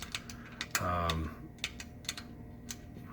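Keys on the keypad of an Ivation quick access gun safe are pressed in a series of separate clicky taps, close up, with a short burst of speech in the middle of the presses.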